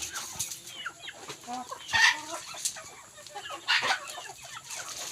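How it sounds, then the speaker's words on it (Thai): Young chickens cluck and chatter continuously nearby, a busy flock with occasional louder squawks rising above the steady murmur. "เป็นไก่หนุ่มครับผม"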